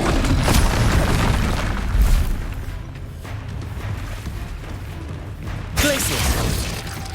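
A booming blast from the Confringo spell in Hogwarts Legacy erupts amid dense game combat noise, with a couple of heavy low impacts and a sharp burst near the end.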